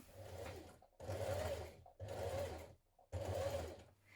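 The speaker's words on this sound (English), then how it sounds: "stitch this seam down with top stitching" A sewing machine top stitching a seam on a shirtdress runs in four steady bursts of rapid needle clatter, each roughly a second long, separated by short silent pauses, close and moderately loud.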